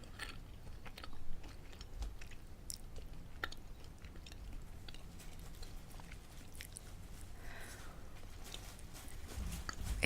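Soft, close chewing and biting on a piece of candy, with faint crunches and moist mouth sounds scattered over a quiet room hiss.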